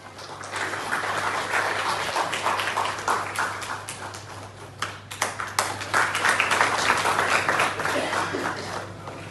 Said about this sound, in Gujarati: આપણે સૌ તાળીઓથી એમને વધારીશું.